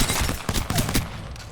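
Rapid bursts of gunfire from an Apex Legends aim-practice session, loud and close, with sharp shots repeating in quick runs over an ongoing game background.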